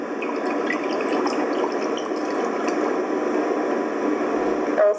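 A spoon stirs an oil and water mixture in a container, giving a steady swishing, sloshing liquid wash that runs loud and continuous throughout, ending with a brief clink.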